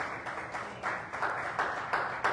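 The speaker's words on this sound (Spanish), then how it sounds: "Denle otro aplauso al Señor." A church congregation claps in a short burst of applause, the clapping swelling in uneven waves, with no voices heard.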